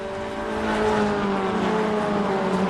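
A Mini Cooper race car runs flat out down the home straight at a Scottish Mini Cooper Cup race. The engine drones loud and steady with a slowly rising pitch, heard from on board.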